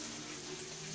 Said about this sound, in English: you pick up your butter beans, drop in here. Yeah, wash it.